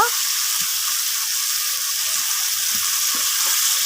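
Hilsa fish frying in a pan with taro stolons gives a steady close sizzle, with soft stirring knocks scattered throughout and no voices.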